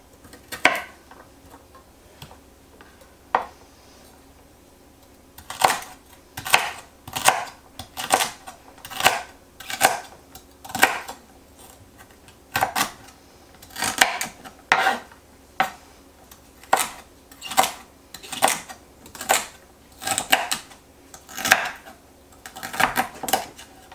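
Knife chopping potato pieces on a cutting board, a few scattered cuts and then a long, steady series of evenly spaced close thuds, one every second or so.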